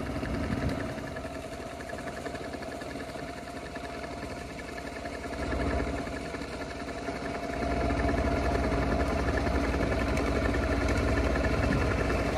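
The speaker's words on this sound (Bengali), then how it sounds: "এদিকে দেখেন দুইটা নৌকা বালু সংগ্রহ করে নিয়ে যাচ্ছে" Two boats carrying sand give off a low, steady engine drone from a distance, faint and unbroken, with a slight swell in loudness toward the end and no voices.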